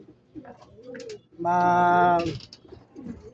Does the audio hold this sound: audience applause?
no